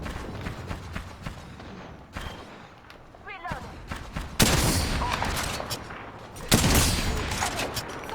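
Rapid bursts of gunfire in Apex Legends crackle through a skirmish, with several loud volleys and scattered shots over background game noise and occasional voice.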